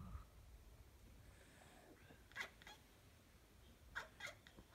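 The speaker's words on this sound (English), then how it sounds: "You chirping cat." Faint, quiet cat chirps, a few short trilling bursts spaced apart against a soft background hiss.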